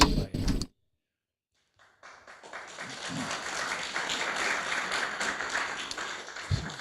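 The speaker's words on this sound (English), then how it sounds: "Thank you for your applause." Audience applause after a speech at a live event, swelling in after a short silence into steady many-handed clapping that holds and fades slightly at the end, following a brief spoken moment before the gap.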